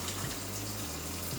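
Water pours steadily into a pot of blackberries and sugar on a stove to make blackberry syrup, a continuous close splashing rush with no talking.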